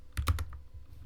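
A computer keyboard is typed on in a short run of four quick, crisp keystrokes, close and fairly quiet, with no voice over them.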